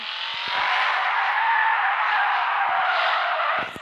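Tires skid and squeal continuously on a modified car in the FR Legends racing game, loud and sustained for a few seconds with a few short low knocks, then cutting off abruptly; no voices.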